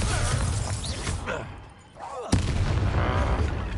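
A Bombarda blasting spell explodes during Hogwarts Legacy gameplay: a heavy booming blast at the start, a lull, then a second sharp, loud explosion with rumbling debris that continues to the end.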